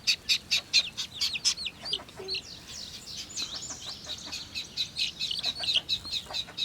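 A little newly hatched chick peeps rapidly and repeatedly in high, close chirps, with a steady run of short calls throughout.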